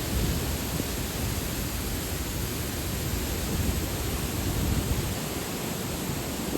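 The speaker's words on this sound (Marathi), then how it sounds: "धबधब्याचा मोठा आवाज धो धो धो धो असा आपल्याला येत आहे" Titvi waterfall at Lonar, swollen by steady monsoon rain, gives a loud, unbroken rushing roar that fills the whole stretch evenly, with no voices heard.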